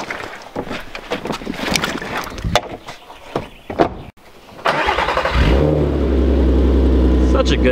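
Clattering and knocking sounds give way to a Volkswagen Golf engine catching and revving loudly, then holding a steady, throaty idle.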